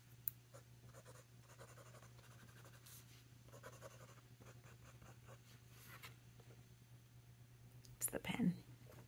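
A pen scratches softly across notebook paper in short strokes, faint and close, under a low steady hum, with quiet speech and a louder rustle near the end.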